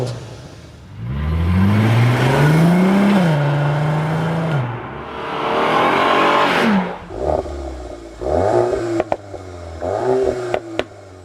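A Volkswagen Golf R32 engine revs up loudly several times, pitch climbing and falling, followed by a string of shorter, sharper blips close by.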